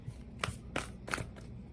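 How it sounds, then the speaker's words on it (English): A deck of Rumi oracle cards is shuffled by hand in three quick, crisp riffling bursts, close up, with a low background hum and no talking. "Get a couple shuffles in, then we'll split the deck."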